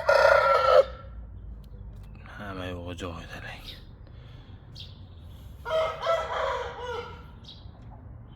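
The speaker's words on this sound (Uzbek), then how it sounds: "Ko'p dagavorlarda ko'p karomatlar ko'rsatgan xo'roz." A fighting rooster crows loudly up close at the start, followed by a second quieter call, while someone talks between and over the calls.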